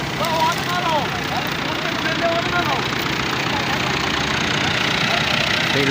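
A tractor engine running steadily at a low idle-like drone while stuck in a field during a harvest, with people talking over it throughout.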